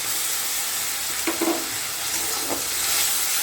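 Ginger, garlic and green chili paste frying in oil in a pan makes a bright, constant hiss with a few soft stirring taps, close and moderately loud with no speech.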